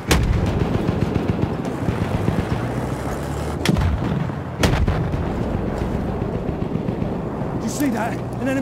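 Heavy cannon blasts from an enemy tank in the World War I shooter game Battlefield 1, with sharp booms at the start and twice more mid-way over a constant rumble of battlefield gunfire and artillery.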